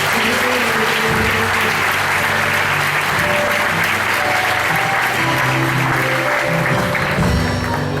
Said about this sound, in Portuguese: Vamos aplaudir, Deus abençoe.